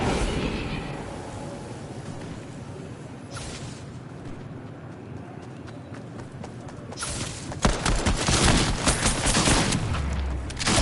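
Gunfire in the video game Fortnite during a streamed match, a dense, continuous rattle of rapid shots that grows louder and harsher toward the end, with no talking over it.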